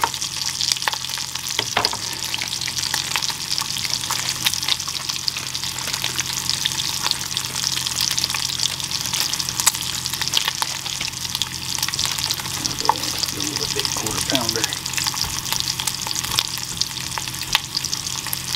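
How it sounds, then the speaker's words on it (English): Bacon fries in a pan inside a converted school bus at a campsite, giving a constant close, crackling sizzle with scattered pops and a few faint clinks throughout, with no talking. "While that bacon's finishing up"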